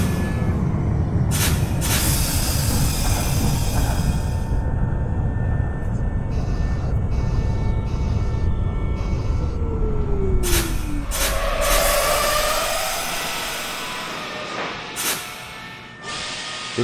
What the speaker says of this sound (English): This is a Brighton Beachbound B Express train.